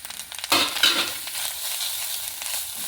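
Grated coconut tipped into a pan with roasting cumin sets off a sudden bright sizzle, then settles into a steady frying hiss with soft stirring scrapes.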